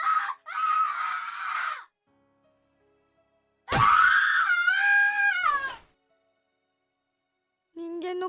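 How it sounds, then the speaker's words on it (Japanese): Inhuman, piercing scream in the horror video game Corpse Party, heard in loud separate bursts: a short shriek, a longer wavering wail, and a brief final cry, with silence between them. "凄まじい音波のような叫び声。"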